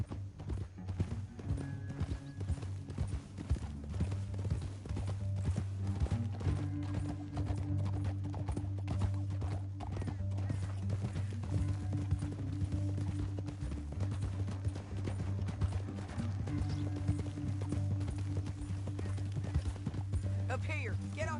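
Hooves clip-clop in a steady galloping rhythm in the video game Red Dead Redemption 2, beneath a low sustained musical drone, with voices talking intermittently over the top.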